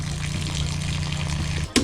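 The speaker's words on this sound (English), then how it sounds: "We've got water flow!" Water gushes steadily from a tap in a self-built campervan's water system, a close, continuous rush with a pump hum underneath that cuts off near the end.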